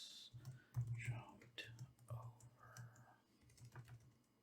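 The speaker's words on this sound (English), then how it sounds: "as you can tell, typing on it" Soft, quick keystrokes on a keyboard connected to a Samsung DeX setup, a faint irregular patter of clicks with brief pauses, heard close and quiet with a few soft murmured words mixed in.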